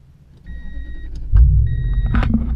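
A 2003 Toyota Tundra SR5 pickup engine cranks and fires up, a brief whir and chime followed by a loud, close rumble settling into a steady idle.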